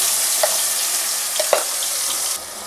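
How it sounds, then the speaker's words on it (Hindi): Masala paste fries briskly in hot oil in a kadai with cumin, a loud continuous sizzle broken by a few sharp clinks and scrapes of a spoon stirring, with nobody speaking. "मसाले को भूनते हुए 2-3 मिनट हो चुके हैं।"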